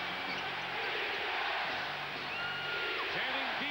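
A packed arena crowd at a 1989 NBA playoff game between the Pistons and Lakers roars steadily and loudly, cheering throughout with a commentator talking over the noise.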